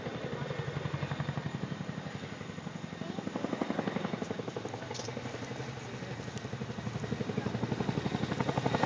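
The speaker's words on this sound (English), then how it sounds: "Look at that big old helicopter." A large firefighting helicopter thunders steadily nearby while refilling with water from a pond during a wildfire, its rotor producing a rapid, rhythmic chopping pulse that stays loud throughout.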